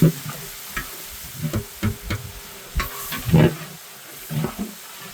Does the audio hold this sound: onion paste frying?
yes